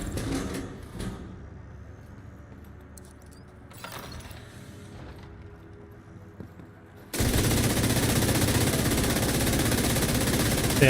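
Sustained LMG minigun fire in The Division 2 on Xbox Series X: after several seconds of quieter scattered mechanical clatter and faint shots, a loud dense continuous burst of gunfire fills the last few seconds.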